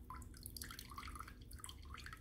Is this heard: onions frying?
no